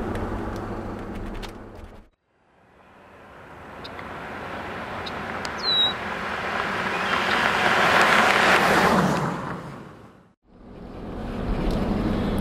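Steady road noise from a Mercedes-Benz G500 cruising at about 40 mph, with tire roar and wind building loudly, then briefly dropping out before resuming.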